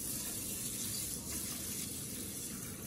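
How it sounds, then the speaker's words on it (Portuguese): Water pours steadily from a tap into a pan holding 300 grams of rice for creamy rice pudding, a soft continuous gushing stream at close range. "Com água. Água até cobrir,"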